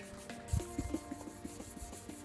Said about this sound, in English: The first step is wet sanding the headlight with 1000 grit sandpaper.